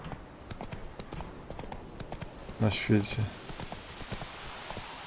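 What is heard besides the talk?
horse hooves galloping in The Witcher 3 video game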